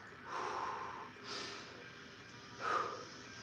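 Heavy, ragged breaths after a workout, three loud exhales and gasps spaced about a second apart, close to the microphone and without speech.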